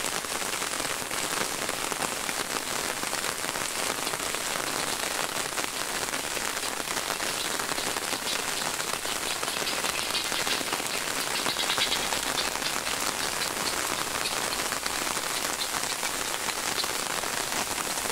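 Steady, dense rain falls on surfaces outdoors near pitomba trees, a constant even hiss of drops with no pauses, no speech and no other sounds, lasting the whole stretch.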